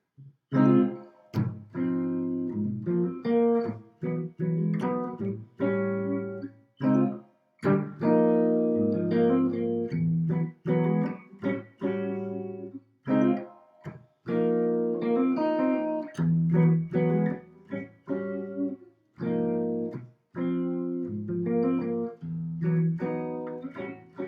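A short sequence of sustained chords plays in a steady rhythm and cycles back around, clear and close with no voices.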